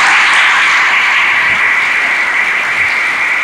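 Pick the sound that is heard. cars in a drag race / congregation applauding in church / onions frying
congregation applauding in church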